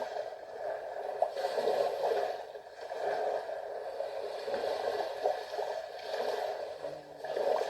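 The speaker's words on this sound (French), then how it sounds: "En écoutant le bruit des vagues" Steady rushing water with gentle swells rising and falling, a continuous wash of surf-like noise at moderate level with no voices.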